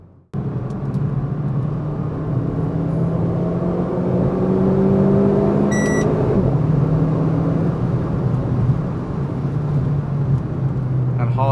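A Renault Clio RS at full throttle in RS mode, its engine note climbing steadily as it accelerates hard, heard from inside the car with a brief chime midway.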